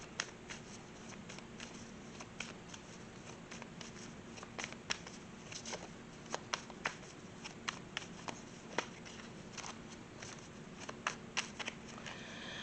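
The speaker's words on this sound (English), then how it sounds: "I am shuffling." Tarot cards being shuffled in a steady stream of soft riffling clicks and snaps, close by, with no talking.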